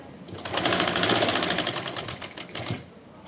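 Sewing machine stitching a Patiyala salwar, a close, rapid mechanical chatter of needle strokes for about three seconds, with no talking.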